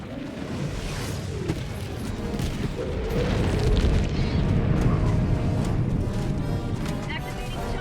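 Loud, dense barrage of air strike explosions in the Helldivers 2 video game, heavy booms piling up continuously over a rumbling battle bed, with a voice calling out.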